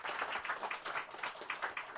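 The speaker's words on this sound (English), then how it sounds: "let's give him a round of applause for coming." Audience applause for a visiting thriller author at a book event, a steady wash of many hands clapping that stays fairly even for a couple of seconds.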